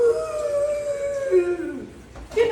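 A person's voice imitates a howling wind with a long, wavering 'ooo' that slowly falls in pitch, then rises briefly again at the end, fairly loud and close.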